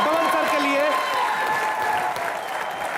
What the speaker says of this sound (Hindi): एक बार जोरदार तालियां हमारे मल्टी टैलेंटेड बमन सर के लिए।